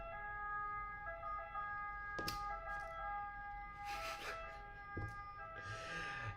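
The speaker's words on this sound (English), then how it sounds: "there is an ambulance. I don't know if you can hear. Not very loud." An ambulance siren passes outside, faint and distant, its steady wailing tones sounding through a quiet room with a few knocks and rustles close by.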